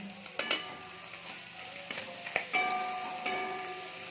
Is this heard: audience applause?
no